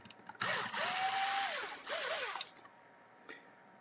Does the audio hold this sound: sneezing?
no